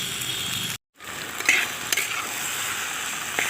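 Spice paste for Bengali chicken kosha frying and being stirred in a pan, a steady close sizzle with a few spoon scrapes and a brief gap near the start.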